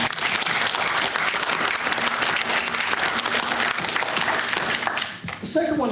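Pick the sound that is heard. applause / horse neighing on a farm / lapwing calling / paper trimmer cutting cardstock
applause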